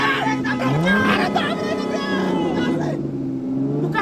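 A car strains up a slope in low gear, its engine holding a labouring drone that rises in pitch, close and loud under overlapping voices.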